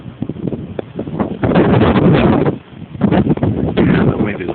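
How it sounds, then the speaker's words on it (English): Gusty wind blows across a workplace yard outdoors and buffets the microphone in loud, rumbling surges that swell and ease several times. "And the wind is really blowing today."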